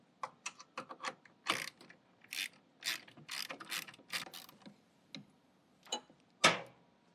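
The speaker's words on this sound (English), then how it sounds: "Last thing we need to do is tighten down the 13mm nuts." A ratchet tightening 13mm nuts on the caster wheel of a Nobles SS300 floor machine, a series of close, clicking bursts in uneven strokes with short pauses, no speech.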